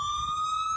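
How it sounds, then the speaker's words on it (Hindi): A phone's anti-theft security app blares a siren alarm once the SIM is removed, a continuous piercing electronic tone that rises slightly, loud and near, heard alone without voices. "ये सायरन बज गया और अब मैं इस फोन का कुछ नहीं कर सकता।"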